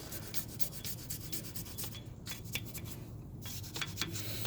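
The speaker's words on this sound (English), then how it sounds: "So that's where you just take your wire brush." A wire brush scrubs rust off a car wheel hub in fast, continuous rasping strokes, steady and close-up with no talking.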